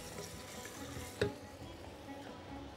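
Onions with a pinch of sugar fry quietly in a pan: a soft, even sizzle with one brief clink of a utensil midway.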